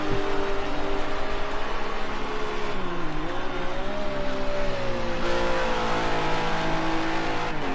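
GT race cars at Silverstone, including a Ginetta, thread through a chicane, engines revving and shifting pitch continuously as they brake and accelerate, loud and close for the whole stretch with no talk.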